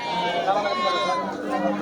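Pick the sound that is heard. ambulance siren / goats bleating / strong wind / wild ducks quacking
goats bleating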